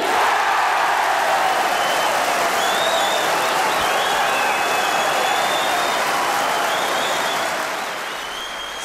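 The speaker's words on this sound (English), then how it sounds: "Wait for the applause." Sustained loud applause from a large snooker audience at the 1984 World Championship final, with a few whistles on top, tapering slightly at the end.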